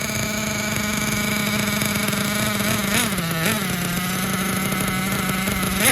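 A nitro RC engine, an SH P3 .28 in an MGT/MTA4 nitro truck, runs at half throttle on its second tank with a loud, steady, buzzing drone that dips briefly twice midway before settling back to an even pitch.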